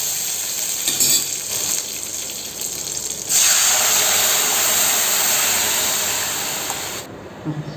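Gravy poured into a hot pan of curry-leaf tempering, a loud steady sizzling hiss that swells suddenly partway through and cuts off near the end.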